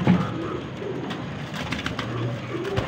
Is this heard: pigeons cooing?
yes